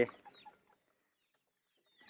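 Chickens on a farm give a few quick clucks at the very start, then fall silent, and faint clucking returns at the end.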